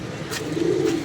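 A pigeon gives one brief, close coo that swells in the second half over a low background hum, with no talking.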